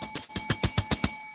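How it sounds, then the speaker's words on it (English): A small desk fire bell rings in a rapid run of about eight bright, metallic strikes that fades out quickly, close and loud, with no talking. "fire bell that I got on my desk."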